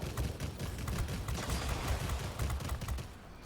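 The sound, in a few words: volley of aircraft gunfire from the video game World of Warplanes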